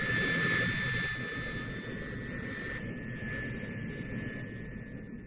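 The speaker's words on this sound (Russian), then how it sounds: "следом за носителем в воздух поднимается самолет в лабораторию" A jet aircraft taking off roars with a steady, high whine over a deep rumble, holding constant and fairly distant.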